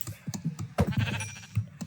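Minecraft sheep bleating in the game, a few short wavering bleats close by among scattered clicks and keyboard taps.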